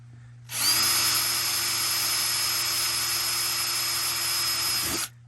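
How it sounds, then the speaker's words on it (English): A power drill whines at a steady high pitch for about four and a half seconds, drilling pilot holes in plastic, starting and stopping abruptly, close by with no talking. "All right, so quick pre-drill."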